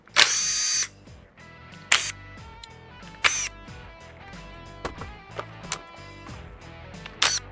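An impact gun with a socket removes the ignition coils on an LS-swapped bagged six-door C30, with a long first burst and then short, sharp rattling bursts separated by pauses.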